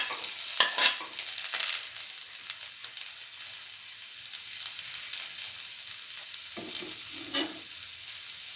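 Ginger and garlic sizzle in a hot pan with a steady bright hiss, broken by a few scraping stirs near the start and again near the end.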